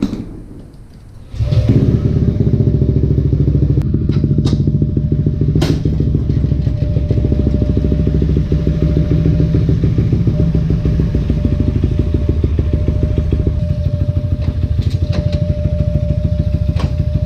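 A 215cc Yamaha Aerox V2 motorcycle engine starts up and idles loudly nearby while warming up, a steady rapid putter that runs on continuously with occasional clicks and clatter.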